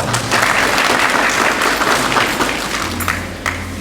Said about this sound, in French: Veuillez applaudir pour M. Nestor Diarra